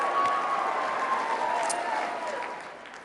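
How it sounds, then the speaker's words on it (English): Applause from an audience at the CPAC political conference for a speaker: sustained crowd clapping with some cheering, moderately loud and spread across a large hall, tapering off toward the end. "Give him a round of applause."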